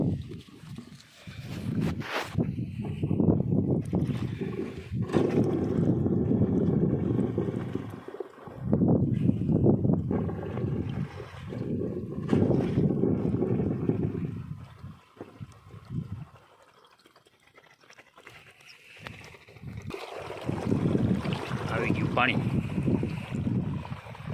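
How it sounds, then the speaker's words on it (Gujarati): Heavy wind roars against the microphone on a farm in long rumbling gusts, dropping briefly to a lull before picking up again. "આજે પૂર પવન બહુ છે જોરદારનું"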